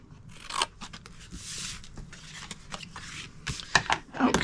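Scissors snip through scored card stock while a small treat box is made, a series of close, crisp cuts and rustles of paper with no talking.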